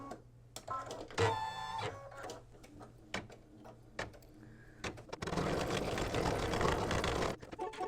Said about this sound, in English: I'm going to stitch the first color stop, and that's going to tack down the batting